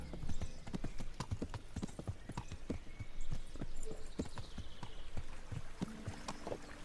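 Steady clip-clop of horse hooves trotting at a brisk, even rhythm in the video game Kingdom Come: Deliverance, close and continuous over a faint background.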